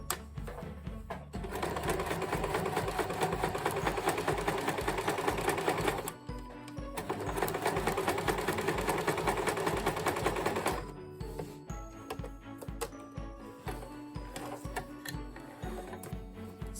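A home sewing machine stitches a zipper into a make-up bag or cushion in two steady, rapid runs, each several seconds long, with a brief pause between them. After the second run, softer handling clicks and rustles follow.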